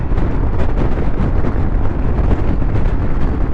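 Yamaha Tricity 300 three-wheel scooter cruising on a motorway, a loud steady roar of engine, road and wind rush that holds constant throughout with no talking.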